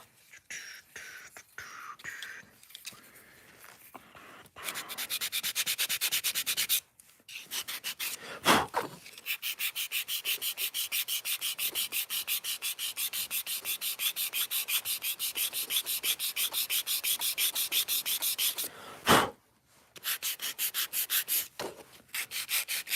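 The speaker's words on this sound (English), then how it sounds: "Just kind of let the sandpaper glide across it." Sandpaper rubbing over a small handmade miniature wooden chair, short scratchy strokes at first, then long steady rasping passes broken by brief pauses, close and fairly quiet.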